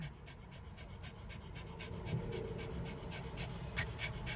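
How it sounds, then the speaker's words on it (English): A puppy panting close up, quick steady rhythmic breaths repeating throughout, fairly quiet with no talking. "Puppy alert."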